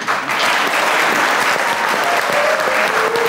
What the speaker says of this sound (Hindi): आप सब लोगों की तालियां होनी चाहिए।